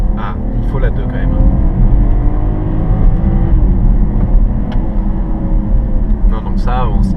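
A 2018 BMW 640i xDrive Gran Turismo accelerating up a small incline in third gear, a loud steady engine drone heard from inside the cabin while someone talks over it.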